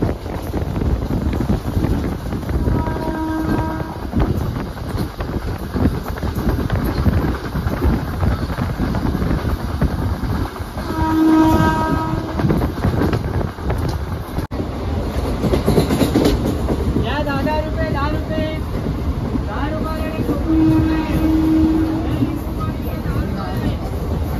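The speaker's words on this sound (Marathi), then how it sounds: "आत्ताच जस्ट ट्रेन थांबली ती" A train at Nagothane rolls in and comes to a halt, with close rumbling and clickety-clack from the wagons, wind buffeting the microphone, and brief tonal calls rising over the noise.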